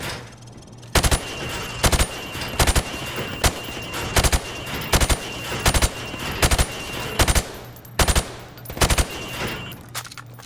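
Rifle shots in Modern Warfare Remastered ring out at pop-up targets on a training range, a dozen or so loud, sharp cracks, some paired as double taps, at an irregular pace over steady background hum.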